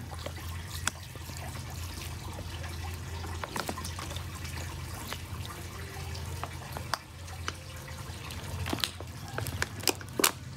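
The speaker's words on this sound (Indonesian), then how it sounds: "Nah, kita siram seperti ini. Siram yang banyak untuk pertama kali" Water trickles and splashes steadily as buckwheat microgreens are soaked generously for their first watering, with scattered drips and sharper splashes near and fairly loud, and no voices.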